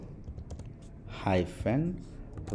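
Typing on a MacBook M1 keyboard to enter a terminal command: soft, scattered key clicks throughout, with a voice speaking over them briefly in the middle.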